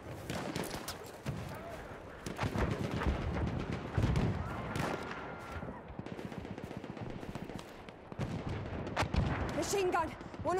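Battlefield 1 battle with machine gun fire mixed into dense shooting and explosions, sustained bursts of rapid rattling running across most of the stretch, with game voice callouts over it.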